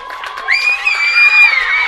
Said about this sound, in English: And her cheering section goes a little crazy